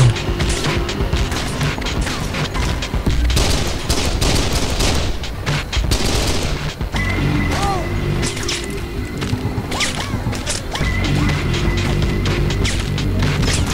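Rapid gunfire in the shooter Kane & Lynch: Dead Men, bursts of shots cracking close and loud over a constant battle din, with sharp impacts and a few tonal whines in between.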